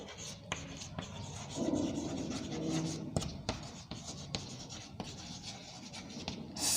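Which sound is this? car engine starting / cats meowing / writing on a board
writing on a board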